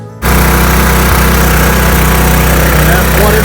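A Craftsman generator's small engine fires up abruptly and then runs at a loud, steady, buzzing drone close by, with no letup to the end.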